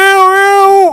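A voice imitates a female cat in heat with a drawn-out, wailing yowl, a single steady high cry that bends downward and fades at the end.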